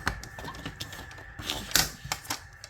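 Paper trimmer slicing a sheet of paper, a series of close clicks and ratchety snaps with a brighter swish near the middle, fairly quiet.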